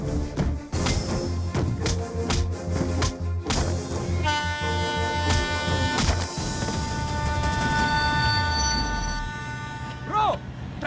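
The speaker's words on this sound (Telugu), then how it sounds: "ట్రైన్ కదులుతుంది" A train rumbles and clanks along, with a long sustained horn-like tone in the middle and a whining pitch that fades toward the end.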